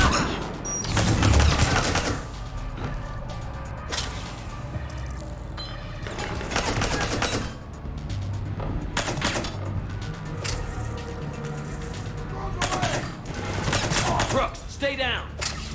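Gunfire in the video game Mass Effect 3, scattered loud bursts and single shots mixed with mechanical clatter, with voices speaking between the volleys.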